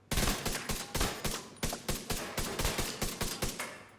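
Rapid automatic gunfire in The Division 2 hits an agent's chest, a loud steady burst of about twenty close shots in quick even rhythm, with no talking over it.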